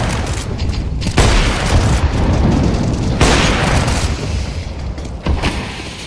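A flashbang goes off in Counter-Strike 2, a loud, dense burst of noise with a ringing wash that persists across the whole stretch amid continuous game sound, with no talk heard.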